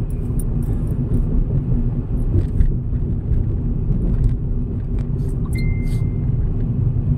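A car drives along a road in Leyte, Philippines, between Ormoc City and Isabel: a continuous low engine and road rumble, heard from inside the vehicle, with faint higher rattles and no talking.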